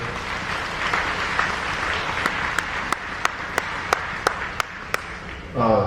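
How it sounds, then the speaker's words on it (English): Applause from an audience at a sports TV awards event, honoring young athletes, rolls as a steady dense wash of clapping with a few sharp louder claps standing out near the end. "can we give another round of applause for all the young athletes in the building?"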